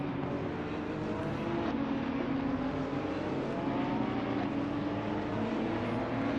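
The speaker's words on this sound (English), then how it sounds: "So the safety car, that beautiful looking Audi," An Audi safety car drives on a race track at the Barcelona circuit during a GT3 racing event, a steady loud engine drone with a shifting tone that holds throughout.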